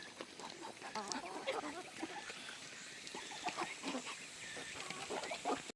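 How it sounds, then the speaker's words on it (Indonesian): Free-range village chickens and ducks clucking and calling together outdoors, a steady busy flock chatter at moderate distance with no talk. "ini ayam dan bebek kampung"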